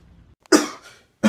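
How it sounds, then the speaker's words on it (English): Two harsh, close coughs, one after a short pause, the first followed by a rough raspy tail. "you coughing up blood"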